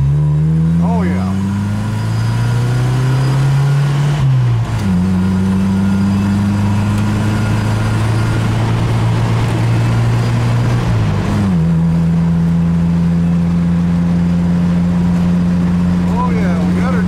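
A 1990 Jeep Wrangler engine runs steadily with a loud, close idle, its pitch shifting in two brief revs before settling back; a voice can be heard at the start.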